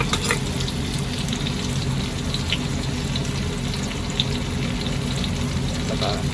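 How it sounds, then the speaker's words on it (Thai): Chicken stir-fries with pickled bamboo shoots, chili and garlic in a hot pan, giving a loud, continuous close-up sizzle with light scraping throughout. "ผัดให้หอมเลยครับผัดให้หอมเลย"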